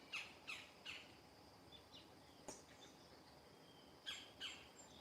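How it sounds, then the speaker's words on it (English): Bird calls ring out in short bursts at the start and again near the end, with a few quieter chirps between, over faint outdoor background. "I don't know what bird's making that noise."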